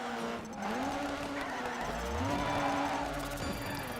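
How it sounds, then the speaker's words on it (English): Tire skid and engine drone from a car spinning a donut in the racing game Dirt 3, a steady rising and falling screech over continuous motor noise, loud and close, with no talking. "Go again for the donut."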